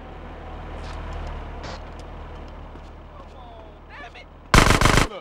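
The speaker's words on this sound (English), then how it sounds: "A gun." A sudden loud burst of rapid gunfire from a gun in the GTA San Andreas video game, close and harsh, erupting at the end after a stretch of traffic rumble and faint street noise.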